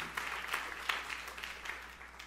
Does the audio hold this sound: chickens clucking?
no